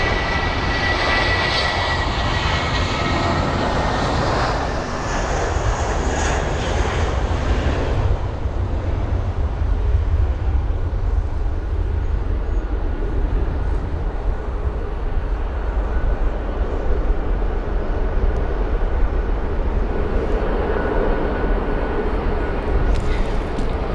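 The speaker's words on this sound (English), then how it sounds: "Got the departure now. The A320." An Airbus A320 departing at London Heathrow gives off a steady, loud roar of jet engines with a broad rushing hiss that softens after several seconds, then a sustained rumble continuing far off with no talking.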